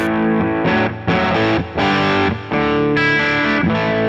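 Electric guitar distortion cleaning up as the volume pedal is rolled back, loud strummed chords in repeated bursts separated by brief gaps, slightly less gritty than full saturation, with no talking.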